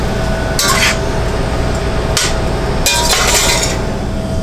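Ground beef with a little garlic powder stirred in a pan, with several bursts of metal spoon scraping against the pan over a steady low sizzle, close and fairly loud.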